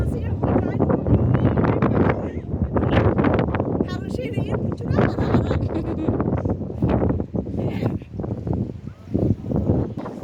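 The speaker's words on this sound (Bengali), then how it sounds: "বাতাসে আমাদেরকে সামনের দিকে যেতে দিচ্ছে না," Strong gusting wind at the top of a tower in Oman, roaring and buffeting the microphone throughout while people talk over it.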